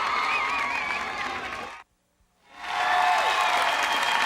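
A studio audience at the American Gladiators grand championship applauds steadily, breaks off into a short silence, then swells back into strong, sustained applause and cheering.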